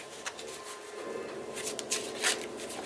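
Tarot cards being shuffled by hand during a reading, a steady papery rustle with several sharper riffling bursts toward the end, close and moderately quiet.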